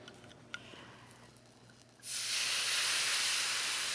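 Wine poured into a very hot pan bursts into a loud, steady sizzle about halfway through, after a quieter stretch of faint kitchen noise, and the hiss holds strong to the end.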